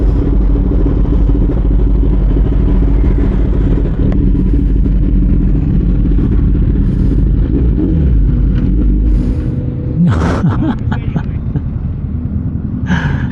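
Yamaha Aerox V3 scooter engine running loud and close, a steady rumbling drone with clattering bursts and voices talking over it, easing off toward the end.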